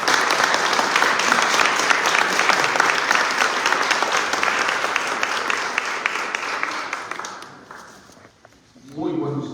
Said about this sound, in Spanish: Les pido un aplauso para Monseñor Ramón.